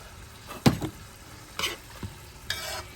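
Shrimp creole sauce of tomato, wine and ketchup stirred in a pan, with a few distinct scrapes and knocks of a spoon over a soft low sizzle, close and fairly quiet.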